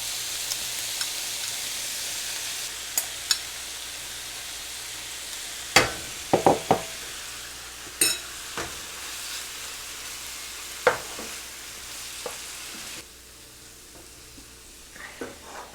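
Chicken and onions frying in a pan with marinade to come, a steady broadband sizzle throughout with a few sharp clicks and knocks of stirring, the hiss dropping somewhat quieter near the end; no talking.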